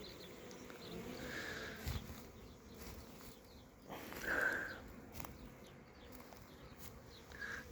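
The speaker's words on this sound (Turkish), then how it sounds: "Arı sesini özlemişiz soğuklarda hiç." A soft, continuous hum of many honey bees buzzing at a hive nearby, with individual insects droning past now and then, quiet and steady throughout.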